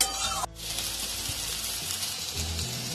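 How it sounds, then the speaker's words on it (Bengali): Drumstick stems frying with salt and spices in a pan, a steady close sizzle with a brief clatter near the start as the stems are moved, no voices. "ডাঁটাটা একটু ভালো করে কষে নেবো মশলার সঙ্গে।"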